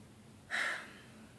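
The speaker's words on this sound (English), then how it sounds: "I keep clearing my throat" A single short, breathy throat-clearing burst from one person, close up and fairly quiet, with faint room noise before and after.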